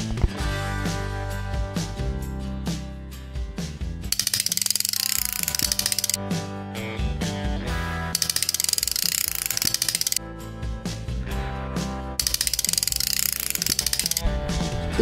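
Ratchet wrench with an extension unscrewing an engine bolt, rapid rhythmic clicking of the pawl in repeated bursts, alternating with louder stretches of turning, close and clear with no talk.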